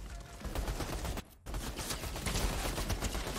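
Rapid, dense gunfire in a Fortnite match, continuous loud shots crackling for a second, a brief gap, then the shooting resumes just as thick to the end.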